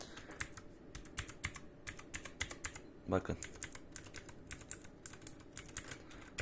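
Rapid, clicky keystrokes on a Redragon K630 RGB mechanical keyboard with blue switches tap out an uneven rhythm close by, with one brief spoken word partway through.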